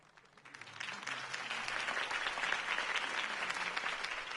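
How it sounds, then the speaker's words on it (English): Applause swells up after a brief quiet start, then continues as dense, steady clapping from a sizable crowd. "could have heard that applause"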